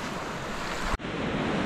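Sea waves roll onto a beach after a storm, a continuous loud rushing surf mixed with wind buffeting the microphone, with a brief dropout about a second in.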